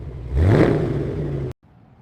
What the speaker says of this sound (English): Throaty V8 rumble, proving that this engine was still alive after all that sitting.